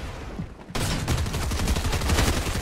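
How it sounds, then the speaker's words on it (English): Fortnite gunfire erupts after a short lull, a sustained rapid barrage of loud overlapping shots continuing steadily to the end. "How the frick does it take so long to actually shoot?"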